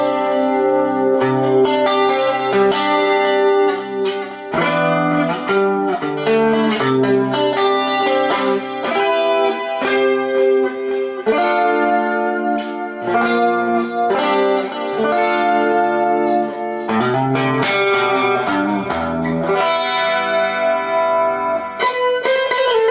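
Electric guitar playing clean tones through a chorus effect with added reverb and echo, set up to recreate a classic album sound; sustained chords and melodic notes ring continuously and loudly for the whole stretch, with no talking.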